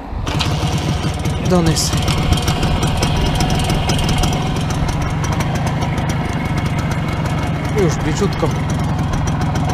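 A WSK 125 motorcycle engine runs continuously with a loud, steady, rapid chugging beat, and someone speaks briefly over it.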